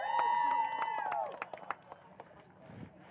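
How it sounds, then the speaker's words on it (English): Scattered hand claps from a small crowd at a car racing results announcement rise under a voice, then thin out to a few sparse claps. "Big round of applause, Bo Oakes in the 4 car."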